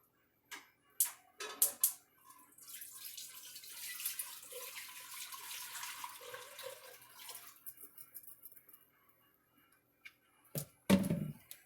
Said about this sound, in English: And then you do 8 more cups of filtered water, for a total of 16 cups of filtered water.